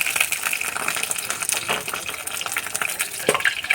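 Onion fritters (peyaji) frying in hot oil, a steady close crackle and bubble with scattered sharper pops and spatters, no voices over it.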